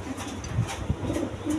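Domestic pigeons for sale give soft, low cooing from close by, a short murmuring burst over a dull background hum.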